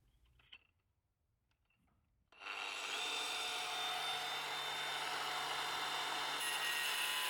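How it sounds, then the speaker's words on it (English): An angle grinder disc bites into a huge, very hard granite boulder being carved into a bathtub. After two quiet seconds, a loud, steady, harsh whine starts suddenly and runs unbroken to the end. "I set the disc and started cutting."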